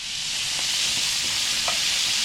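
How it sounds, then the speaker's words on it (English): Beef sears in hot bacon fat with a steady, loud, hissing sizzle that carries on without a break and has no voices over it. "now we're gonna sear the beef in the bacon fat"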